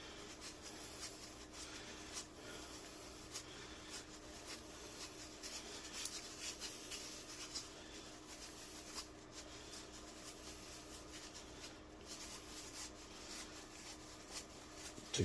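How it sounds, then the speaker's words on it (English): Fine sand sifted through a sieve over a casting mold for a custom silver piece makes a faint, continuous soft rustling and gritty rubbing, steady and quiet throughout with no talking. "because there is some fine detail in this, we want to filter the sand on top"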